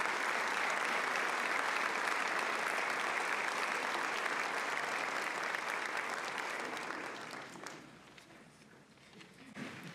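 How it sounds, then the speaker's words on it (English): Sustained applause from a large crowd at an Ivy Day ceremony fills the space, steady and dense, then thins and fades out near the end. "Let's have one final round of applause for the 2026 Ivy Day royalty"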